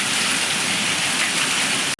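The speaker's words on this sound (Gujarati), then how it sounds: "જોઈ લ્યો વરસાદ કેમ વરસે" Steady, heavy rain pours down in a dense, even hiss in a village near Dwarka, with water falling down a staircase, cutting off abruptly at the very end.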